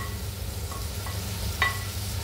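Onion and tomato cook in a pan with a low, even sizzle, and a single clink of a utensil comes late in the short stretch.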